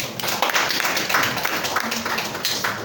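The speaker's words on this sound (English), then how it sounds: "Please a round of applause for him." A round of applause from the audience at a Menzgold press conference: dense, continuous clapping fills the whole stretch at a fairly even loudness.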